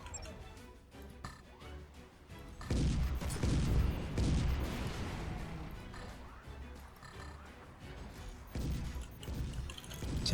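Artillery firing in the real-time strategy game Forts, a dense run of booming shots and crashing impacts that swells after a few seconds and keeps rumbling loudly, without talk.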